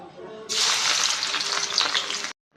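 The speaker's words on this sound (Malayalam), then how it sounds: "ഞാനിവിടെ മൂന്ന് സവാള തിന്നായി കട്ട് ചെയ്ത് വെച്ചിട്ടുണ്ട് കേട്ടോ ഇനി ഇതൊന്ന് ഫ്രൈ ചെയ്തെടുക്കണം" Three sliced onions hit hot oil for chicken chukka, a sudden loud sizzle that bursts in and roars steadily for about two seconds, then cuts off abruptly.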